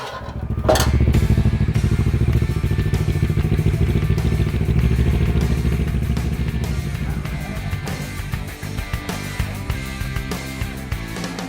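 A Kawasaki Ninja 650R motorcycle with a Leo Vince exhaust and airbox modification runs on a dyno, steady and loud at close range, its rumble holding for several seconds before easing into a lower, uneven idle.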